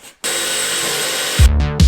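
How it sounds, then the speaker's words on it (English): A power drill cuts holes in the front trunk of a Lamborghini: a loud, close burst of harsh whirring after a brief pause, followed by two short, heavier grinding pulses. "after drilling holes in the front trunky thing"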